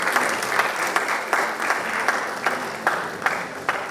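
Steady audience applause at a Korean ESG management award ceremony, a dense, even wash of clapping from a seated crowd with occasional louder claps punctuating it, heard alone without talk.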